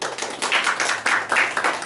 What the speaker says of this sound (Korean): 또 박수.